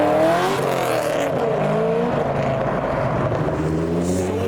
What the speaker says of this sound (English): S15 revving as he drives past